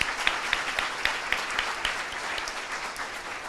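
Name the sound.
audience applause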